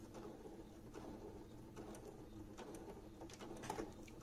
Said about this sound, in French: Donc là, je couds vraiment à ras du fil jaune.